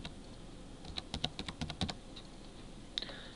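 Keys tapped on a computer keyboard in a short, uneven burst of light clicks, quiet and close, with a faint background hum.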